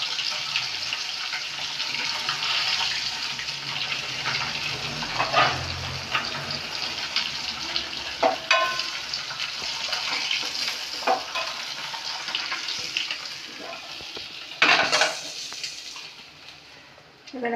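Fried koi fish being lifted out of sizzling oil in a pan, a continuous close crackling sizzle with occasional utensil clinks and scrapes, no talk.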